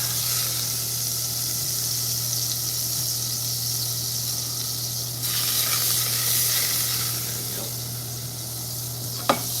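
Butter sizzles steadily in a hot frying pan, a continuous loud crackling hiss that swells around the midpoint, with a low steady hum underneath and a sharp clink near the end.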